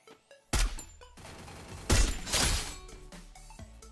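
Gunfire in the mobile battle royale game Free Fire: a loud close burst of shots, a short pause, then another dense volley that fades into rattling tails.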